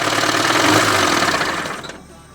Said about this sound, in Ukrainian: на холостих працює добре